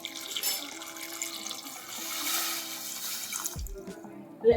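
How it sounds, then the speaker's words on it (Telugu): Water runs steadily into a pan of onions and green chillies for several seconds with a broad rushing hiss, then stops, followed by a light clink near the end. "కలిపి కొంచెం వాటర్ పోయాలి."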